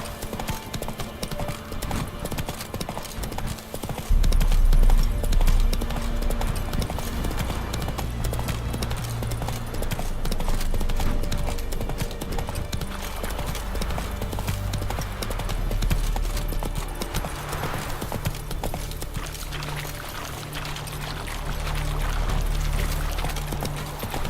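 A horse in The Witcher 3 trots along in steady clip-clop hoofbeats, fairly close and continuous, with a short whinny-like burst early on and low rumbling ambience underneath.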